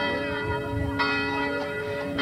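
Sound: church bell ringing

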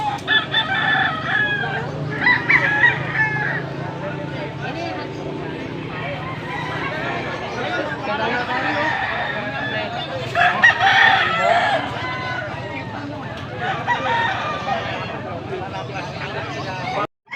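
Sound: roosters crowing at a gamecock market

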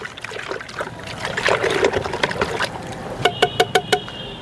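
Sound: stirring liquid organic plant fertilizer with a stick

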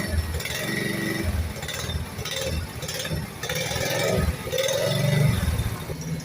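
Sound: motorcycle engine running

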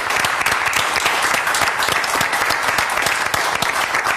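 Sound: applause

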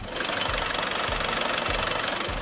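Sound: SsangYong G4 Rexton diesel engine idling, hood open

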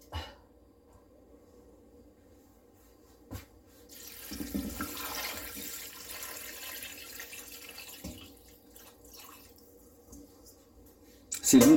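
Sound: water poured into pot with soaked flageolet beans

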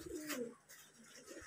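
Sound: pigeons cooing

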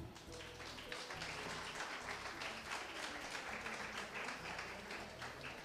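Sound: audience applause at a pageant finale

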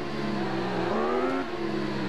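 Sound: motorcycle engine revving in video game Ride

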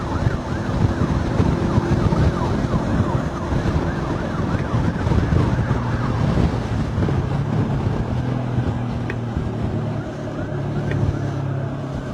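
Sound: Chulalongkorn hospital ambulance siren

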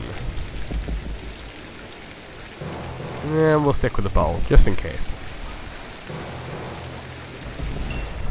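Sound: rain in video game Hitman Absolution

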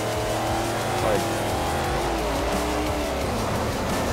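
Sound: race car driving in Forza Motorsport 4 video game

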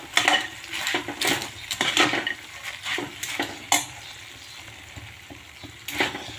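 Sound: stirring poha into sugar syrup in a pan

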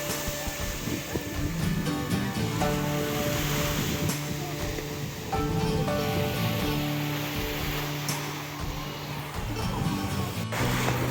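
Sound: sea waves at Odesa beach

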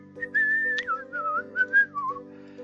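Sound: whistling

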